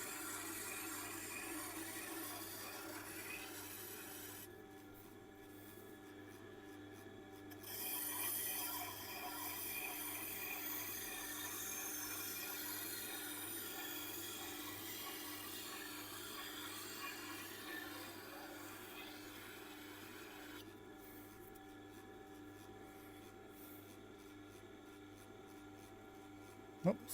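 A knife is sharpened freehand on a stone, a quiet, steady scraping rub with strokes repeating over and over, close up with no talking.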